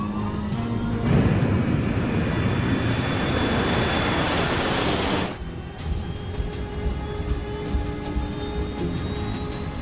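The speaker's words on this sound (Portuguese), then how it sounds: "Nós aceleramos até a velocidade da decolagem." A Continental airliner's engines roar steadily as it accelerates down runway 34 right for takeoff. The sound is loud and broad, then drops abruptly to a lower, steady rumble.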